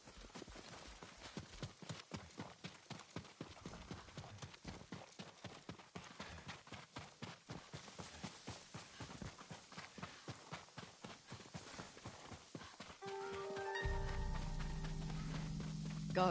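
Horse hooves clip-clop in a steady walking rhythm during a video game, close and fairly loud for about thirteen seconds before a low sustained musical drone takes over.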